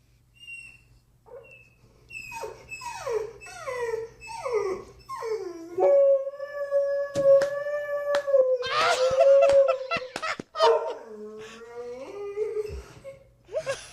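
A dog waits at a window with its chin on the sill, whimpering in rising cries that build into a long, sustained howl with wavering pitch, close and loud, with a few knocks and faint voices.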